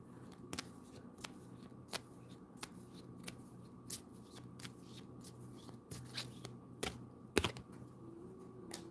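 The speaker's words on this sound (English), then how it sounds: "I might have to shuffle for a little bit, so stay patient. I'm over here shuffling." Tarot cards riffled and shuffled repeatedly, with crisp snapping bursts at an uneven rhythm, close up and fairly quiet, no talking.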